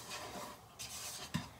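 Cornstarch and sugar being stirred into a peach cobbler filling, a soft scraping swirl of a spoon against the bowl with one sharper knock near the end, fairly quiet and without talk.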